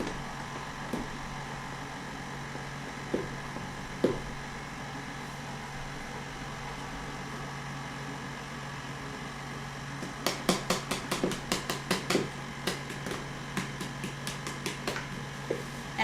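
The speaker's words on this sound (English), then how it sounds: "I've got my dough hook attachment on my KitchenAid here." A KitchenAid stand mixer fitted with a dough hook, kneading sourdough on low, gives a steady motor hum. Occasional knocks are followed by a quick run of sharp rattling clicks near the end.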